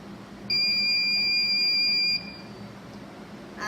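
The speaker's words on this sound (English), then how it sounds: "As you can see, the alarm sounded and the light turned on." A shoplifter alarm built as a coding and robotics project sounds when an item is lifted from a display case: a loud, steady high-pitched electronic tone holds for about two seconds, then cuts off into quiet room hum.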